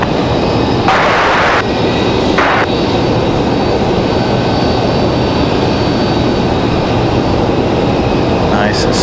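A Delta airliner arriving from Washington DCA lands on runway 5L at Raleigh-Durham International Airport, its jet roar steady and loud for the whole stretch, with a couple of brief bursts of voice cutting in over it.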